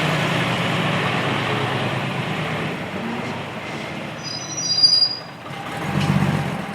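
A Guy Arab bus pulls out onto local roads at a bus festival, with a steady engine rumble throughout, a thin high squeal in the middle and the engine swelling again near the end, with no voices.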